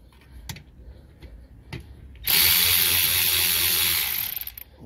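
A ratchet wrench tightens an Acura TL brake caliper bolt: soft taps and clicks at first, then a loud, dense, continuous ratcheting burst lasting about two seconds before it tapers off, close up.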